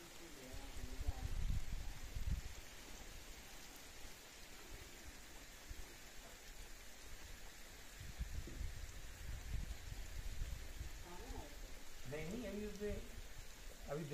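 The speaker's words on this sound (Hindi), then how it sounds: "चारों ओर इन पहाड़ी पे ना बारिश हो रही है।" Steady rain hisses across the hills of a mountain village in Uttarakhand, India, with low rumbles and faint, distant voices drifting in now and then.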